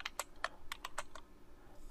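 Computer keyboard keys R and F are pressed in a brief run of soft clicks, several taps spread over two seconds, quiet and close with no voices.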